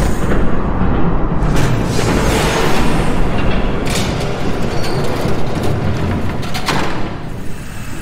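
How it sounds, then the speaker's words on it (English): Train passing in Batman The Telltale Series video game, a heavy loud rumbling roar with thudding booms and rattling wagons sustained throughout, easing off slightly at the end. "There's a train coming."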